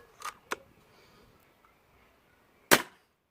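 A Weihrauch HW100T air rifle fires an H&N Field Target Trophy 8.64 grain pellet: two quick soft clicks, then one sharp, close crack after a short quiet pause.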